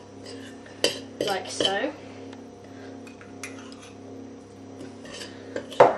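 A spoon mixes pastry dough in a bowl as water is added by the tablespoon for a courgette quiche, giving a few sharp clinks and scrapes against the bowl between quiet pauses, with brief speech.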